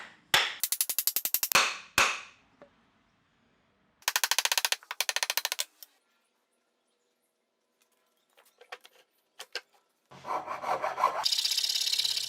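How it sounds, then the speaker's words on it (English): A saw rasp shapes a dense wooden handle in several bursts of quick back-and-forth rasping strokes, close and loud, separated by pauses and a few light knocks, with a longer steady stretch of filing at the end. "I really enjoy using the saw rasp and it takes no time at all to shape a handle like this"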